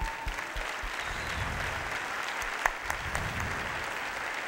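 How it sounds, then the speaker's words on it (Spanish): Large conference audience at Ciudad de las Ideas applauding, a sustained dense wash of clapping from a big crowd, steady and fairly distant throughout. "un aplauso para ustedes"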